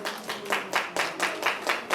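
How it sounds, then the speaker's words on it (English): Clapping at an alumni association's annual general meeting comes as a regular series of about eight sharp claps, fairly close and moderately loud, with no talking over it. "Another round of applause."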